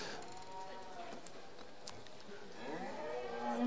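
Cattle at a winter farm show ring with Maine Anjou and Shorthorn heifers: faint, distant moos rising near the end over a hall's murmur, with an announcer's voice in the background.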